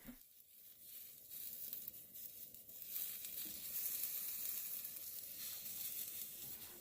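Chili pepper and vegetables char and sizzle in a hot, smoky pan, a steady close frying hiss with crackly, crinkling bursts that swells slightly louder midway, with no talking.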